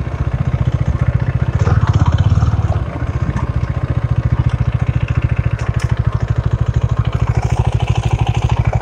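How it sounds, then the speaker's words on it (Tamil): A Husqvarna Vitpilen 250 motorcycle idles close by, its exhaust giving a rapid, even, loud putter, with a brief blip of revs early on before settling back to idle. "இந்த வண்டியோட எக்ஸாஸ்ட் நோட்டு கேட்போம்"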